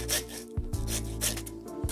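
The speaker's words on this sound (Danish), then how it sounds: "Så saver vi med saver." A saw cuts through a pork ham being butchered, giving repeated rasping back-and-forth strokes at close range with no voices.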